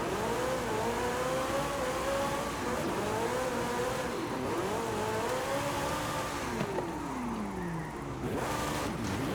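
A Desert Flyer rear-wheel-drive car revving while drifting in Forza Horizon 5, its engine note sweeping up and down repeatedly as the throttle is worked through a slide, with tire noise beneath, steady and close.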